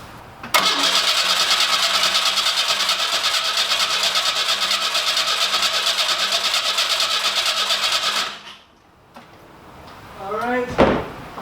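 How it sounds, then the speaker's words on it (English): The 2M4 engine of a 1985 Pontiac Fiero cranks over on the starter to prime the oil system. It gives a loud, rapid, steady whirring churn for about eight seconds, then stops abruptly, and a voice follows afterward. "I'm going to turn the engine over just to prime the oil system so everything is lubricated"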